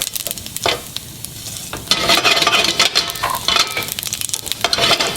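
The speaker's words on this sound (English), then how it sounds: "now I'm going to add cumin seeds. Watch them sputter." Cumin seeds sputter and crackle in hot olive oil for a chana masala, a dense hiss of close frying with a few stirring scrapes, growing louder and busier after the first couple of seconds.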